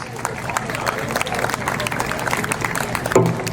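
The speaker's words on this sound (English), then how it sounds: "Let's give Paul a round of applause" Audience applause for a veteran at a Veterans Night event, a dense crowd clapping steadily with murmuring voices mixed in, fairly loud and sustained throughout.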